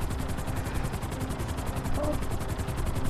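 In GTA 5, a helicopter's rotor thumps in a fast, even rhythm under a heavy engine roar, loud and continuous, with a brief faint voice-like sound partway through.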